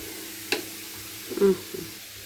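Baking soda doused with vinegar fizzes and sizzles during household cleaning, a soft, close bubbling hiss with a couple of brief louder bursts and light handling noises, no talking.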